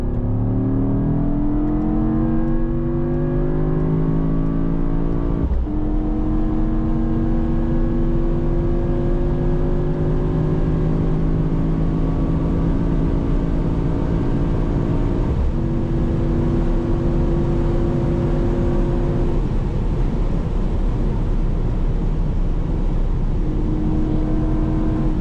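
A Mercedes-AMG GT63 hybrid V8 roars through repeated full-throttle accelerations on the Autobahn at night, heard from the interior, pitch climbing steadily before dropping at each gear change, loud and close.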